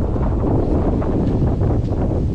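Strong wind roars steadily against the microphone, a loud continuous buffeting rumble with no pauses.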